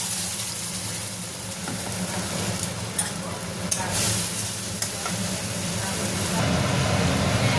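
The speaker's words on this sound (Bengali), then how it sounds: "দেখো তেল বসিয়ে দিয়েছি, মশলাটা এবার দিয়ে দেবো" Spices sizzling in hot oil for chicken do pyaza, a steady crackling fry with occasional stirring clicks and scrapes, heard close over a low background hum.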